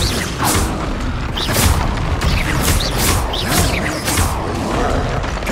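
Repeated explosive bursts of the Confringo fire spell in the Hogwarts Legacy video game, several sharp booms in succession over a rumbling combat background, with no speech.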